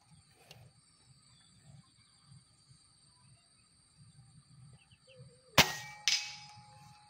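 An air rifle shot strikes a steel target 80 meters away, giving a sharp metallic clang followed by a second ringing hit, heard distant over quiet outdoor background with insects.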